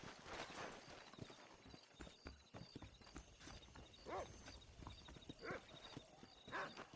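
Horse in the video game Red Dead Redemption, hooves clip-clopping in a quick, steady rhythm with a few whinny-like calls, quiet and close, with no talking over it.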